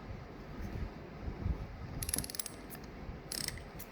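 Ratcheting clicks from a torque wrench set to 50 Nm with a 16 mm socket, turning counterclockwise to loosen a bolt during a Honeywell manifold replacement, come in two short bursts over a low mechanical rumble with no talk.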